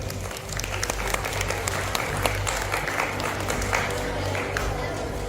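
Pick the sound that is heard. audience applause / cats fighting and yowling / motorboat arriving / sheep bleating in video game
audience applause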